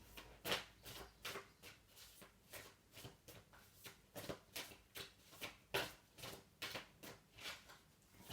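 Oracle and tarot cards are shuffled close up, with quiet, regular riffling bursts repeating about twice a second in a soft, steady rhythm.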